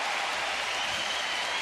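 Baseball stadium crowd at a White Sox game applauds and cheers in a steady, dense wash of clapping, moderately quiet and continuous for a short stretch with no clear voices.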